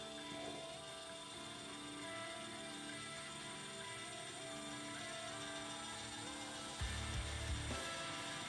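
An electric drill whirs steadily at close range, its motor whine holding for several seconds before a brief heavier grinding surge near the end.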